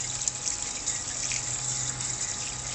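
Clean water pouring into a portable pump for priming, a continuous hissing splash of running liquid, steady and close.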